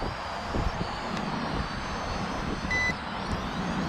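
A Snaptain SP660 drone hums with a steady broadband motor whir, then gives one short, clear electronic beep partway through as it starts an emergency landing, with no voices.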